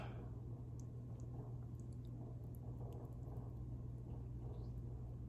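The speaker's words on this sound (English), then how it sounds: "You're gonna pour it over into your saucepan with your sweet potato." A thick candied yam mixture is poured over sweet potatoes in a saucepan, making quiet wet squishing and gloppy sounds over a steady low hum, with no talking.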